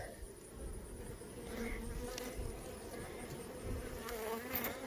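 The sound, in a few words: nurse bees buzzing on hive frame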